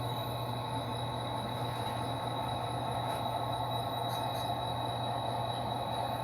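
A locomotive backing up with rail cars gives off a low, steady rumble with a faint metallic whine and a few light clicks. The sound is continuous and fairly quiet, with no voices.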